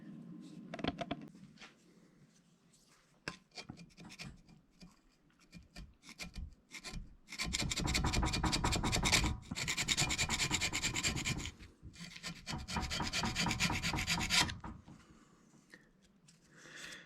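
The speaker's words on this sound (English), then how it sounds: "So I got a curved scraper for pulling. It's got a little longer reach on it as well." A curved scraper rasps gasket material off the manifold of a 1993 Chevy Silverado K3500 with a 7.4-liter TBI engine. Short scratches come first, then long, loud bursts of scraping close by.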